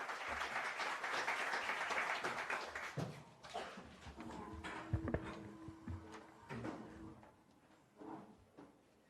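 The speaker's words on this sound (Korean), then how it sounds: "힘찬 박수로 함께 모셔보도록 하겠습니다" Crowd applause welcomes party leader Han Dong-hoon at a youth leaders' graduation ceremony, starting as a fairly full clatter of clapping, then thinning into scattered claps and room noise as it fades.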